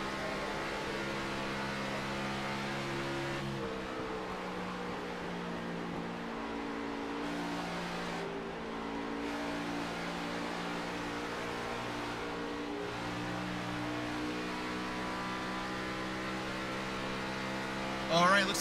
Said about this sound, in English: You can hear him throttling that car, keeping those tires underneath him